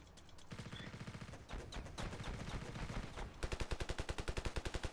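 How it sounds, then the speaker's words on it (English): Rapid automatic gunfire in a World War I video game, fired through a wall in continuous fast bursts that grow louder and sharper toward the end, with no voice over it. "Oh, I can shoot through a wall."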